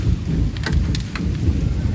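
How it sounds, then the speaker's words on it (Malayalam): Thunder rumbles through heavy rain at Chimmini Dam in Thrissur, a dense, continuous roar of falling water with deep low booming underneath, close and loud throughout. "ഇടിമിന്നലൊക്കെ ഉണ്ട്."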